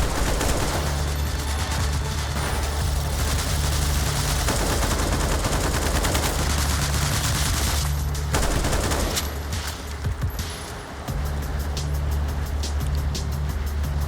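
Sustained video-game gunfire crackles loudly through an online shooter match, with dense rapid bursts layered over a steady low engine rumble and only a brief lull near the end.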